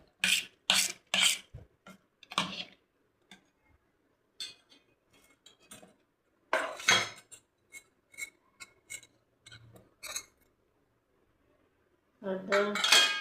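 A spoon clinks and scrapes against a bowl while mixing handvo batter with spices, in short, irregular bursts separated by quiet pauses, fairly close.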